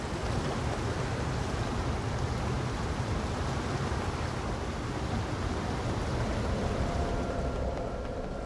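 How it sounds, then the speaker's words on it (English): Steady rain in the NieR Re[in]carnation video game, a dense, even hiss with low rumble that holds constant throughout, with no voices or other sounds. "The only sound is the rain."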